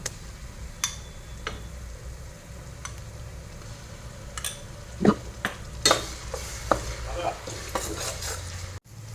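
Onion and garlic paste frying in a pan for vegetable pulao, a low sizzle beneath scattered spoon taps and scrapes that grow busier and louder partway through, close and without talk.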